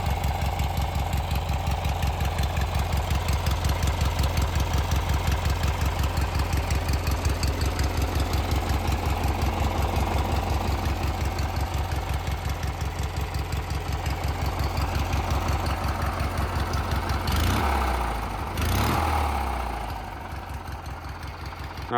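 Racing lawn mower engine running steadily with a throbbing idle for most of the stretch, then a couple of brief throttle blips near the end, loud and close.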